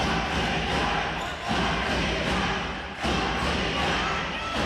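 A Latvian crowd cheers at a women's EuroBasket 2017 basketball game against Montenegro, a steady, loud arena roar with dull thuds of a bouncing ball and brief dips in the noise.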